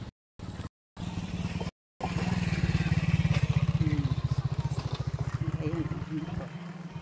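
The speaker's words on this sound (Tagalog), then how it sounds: "may motor na naman" Motorcycle engine running close by on a steep downhill road, a steady low rumble with clattering pulses that holds for several seconds after brief gaps, loud and near throughout.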